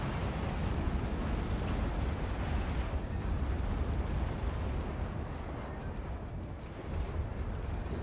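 A tokamak generator blowing up in the strategy game Act of Aggression, a long, heavy rumbling blast with crackling debris that rolls on steadily for several seconds, loud and dense.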